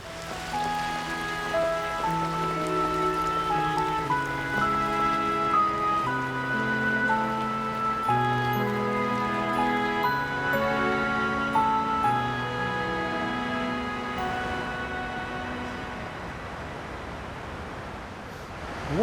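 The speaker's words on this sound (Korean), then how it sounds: "물소리가 어디서 많이 들리고" Steady rushing stream water flows continuously beneath melodic background music, a constant hiss with no voices, near Punggi-eup, Yeongju, South Korea.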